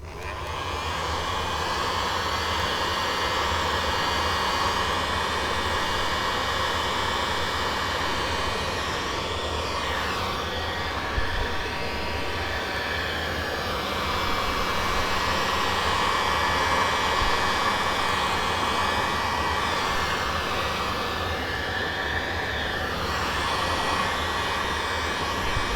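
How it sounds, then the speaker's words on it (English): A heat gun blows hot air onto a hose wrap cable tidy, a steady, fairly loud whooshing roar that continues unbroken with slight shifts in tone as it moves. "heat gun time."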